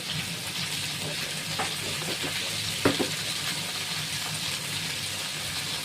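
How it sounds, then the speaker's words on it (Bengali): Potato, ridge gourd and drumstick pieces fry in a pan with a constant close sizzle. A few scraping stirs and a clink from a utensil come through the middle. "আমি আলুটা একটু ভেজে ঝিঙেটা ডাঁটাটাও ঢেলে দিলাম।"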